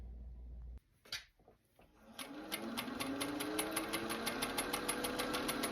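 A vintage Singer 201 sewing machine runs a long basting stitch, gathering fabric at a sleeve bottom; after a few faint starts it settles into a steady, fast mechanical chatter with regular clicks, close and alone.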